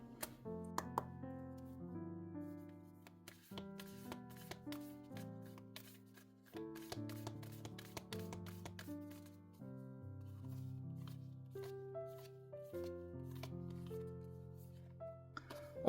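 Oracle cards shuffled during a tarot reading, soft riffling clicks and taps set under a louder, steady melodic music bed.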